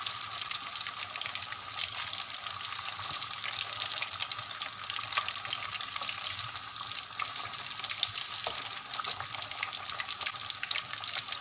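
Fish pakoras fry in mustard oil being reused for a second batch, turned to brown the other side; a steady, dense crackling sizzle runs throughout at even loudness, with no talk.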